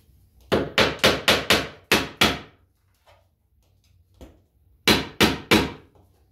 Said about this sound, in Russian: Бью один гвоздик, и то не до конца.